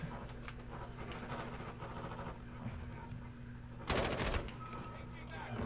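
Gunfire in Modern Warfare 2, a stream of distant shots popping over a steady game background hum, then one louder close burst near the end.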